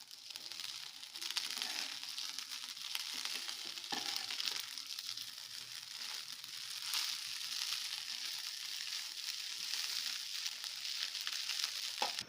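Grated fresh coconut and coriander leaves fry in a pan for a capsicum coconut rice dish, giving a steady, even sizzle with a few faint stirring scrapes and no talking throughout.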